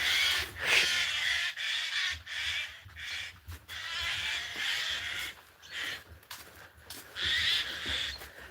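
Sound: birds calling outdoors

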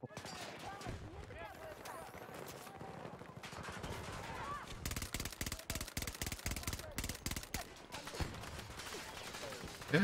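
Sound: gunfire in the video game Battlefield 2042

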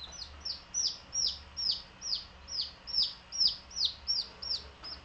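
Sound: Japanese chicken chicks chirping and clucking

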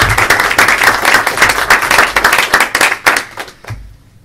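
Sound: audience applause at a panel discussion

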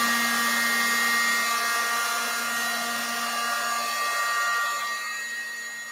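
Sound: dryer drying paint on an art journal page

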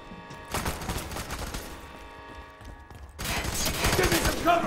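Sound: gunfire in the video game F.E.A.R

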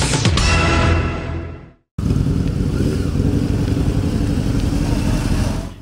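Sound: motorcycles of motorcycle-riding Santas gathering

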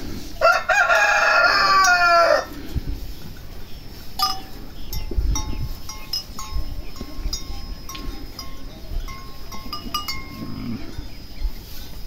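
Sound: chickens clucking and crowing

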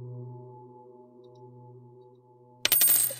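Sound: coin pickup sound in the video game Bad Dream: Bridge

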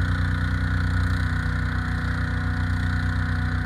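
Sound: 20 horsepower Subaru gas engine running on grapple dump trailer

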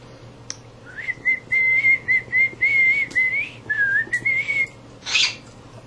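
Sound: cockatiel whistling

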